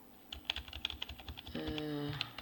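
A computer keyboard is tapped at close range as a short text prompt is typed, with quick irregular keystrokes followed by a sustained tonal hum underneath the last clicks.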